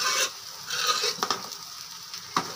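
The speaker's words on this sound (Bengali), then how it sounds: "ভালো করে নাড়াচাড়া করে একটু ভাজা ভাজা করে নেব।" Rice and dal frying in oil are stirred in a pan, giving a steady close sizzle with a few sharp scraping strokes of the spoon spread across the moment.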